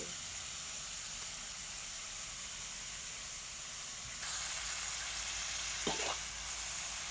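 Holy basil hits shrimp stir-frying in a pan, raising a steady close sizzle that swells louder partway through, with a brief stirring scrape near the end.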